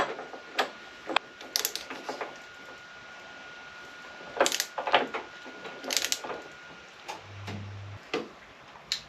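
Wrench clicks on a bolt on a Triumph Tiger Sport fork being slackened after torquing to 40, sounding as a series of sharp, close ratcheting ticks in irregular bursts with quiet gaps between.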